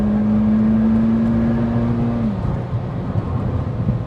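A 440 bhp Mitsubishi Evo X FQ-440 pulls hard under acceleration, its engine note climbing steadily and then dropping into a rougher, lower drone, loud and close with no talk.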